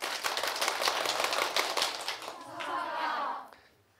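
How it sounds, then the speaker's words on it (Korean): Quick, crisp claps from a lecture audience, about ten in a fast burst, run densely for a couple of seconds, then fade into a brief wash of voices before quiet. "박수 빨리 10번 치고 수석 합격 외치겠어요"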